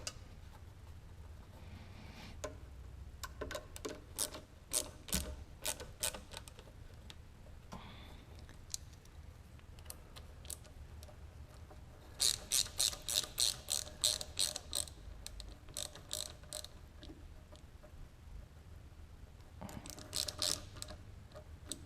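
A hand ratchet loosens bolts while a Subaru BRZ engine is being pulled, giving quiet bursts of rapid metallic clicking, with a louder run of clicks in the middle and another near the end.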